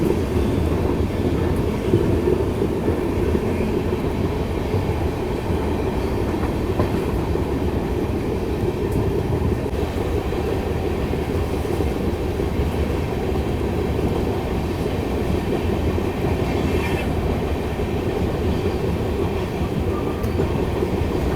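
An Indian passenger train hauled by a WAP-4 electric locomotive on the Thar desert line rumbles along continuously, with steady rolling wheel noise and faint rhythmic clatter heard from on board, no talking.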